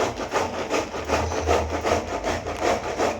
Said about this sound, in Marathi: मी इथे हा पूर्ण कोबीचा गड्डा किसून घेणार आहे